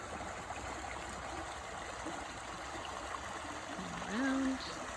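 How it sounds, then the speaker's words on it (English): A winding creek flows steadily, a soft continuous trickle of water heard up close, broken near the end by a brief faint tonal sound. "you can see the creek just kind of snakes around this area"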